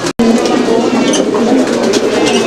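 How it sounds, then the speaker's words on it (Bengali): Black Lahori pigeons coo close by in low, throaty, repeated calls that roll on continuously over a soft background hiss. "এটা ব্ল্যাক লাহোরি কবুতর একটা জোড়া"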